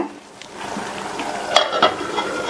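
Drumstick masala thinned with water is stirred in a pan, with soft wet scraping and a couple of sharper utensil knocks against the pan over a low background simmer, close and moderately loud.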